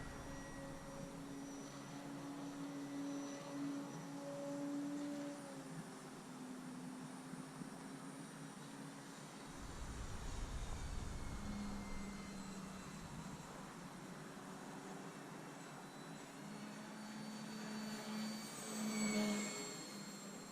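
A Parkzone Sport Cub S2 RC airplane motor whines steadily on takeoff into the wind, faint and somewhat distant under wind noise, with the pitch shifting as the plane climbs.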